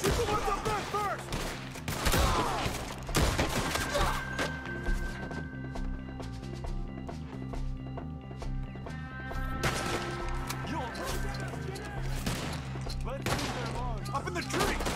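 Gunfire in Red Dead Redemption 2, repeated sharp shots in scattered bursts against game music and ambience, loud and close throughout.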